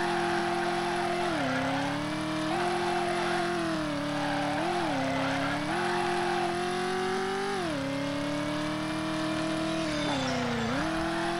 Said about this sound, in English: Love the idle sound of the car in this game.